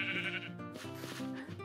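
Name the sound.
sheep bleating in the video game Minecraft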